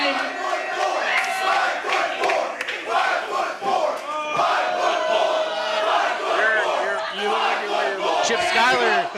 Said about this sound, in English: Chip Skyler being called 5'4" by the crowd. They are calling out his height right now.